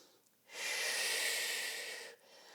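A single long, forceful exhale through the nose and mouth during a pelvic tilt exercise, close and breathy, lasting under two seconds between quiet pauses.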